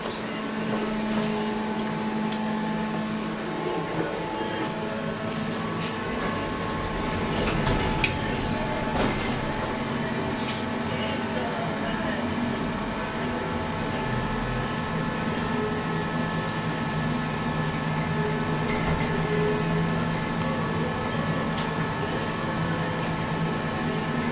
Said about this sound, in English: It's a Schmidt Sohn lift.